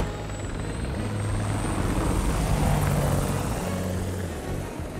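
A helicopter flies over a city street, its rotor thudding steadily and loudly under a constant engine whine. The sound swells slightly toward the middle as it passes nearby, and no voices are heard.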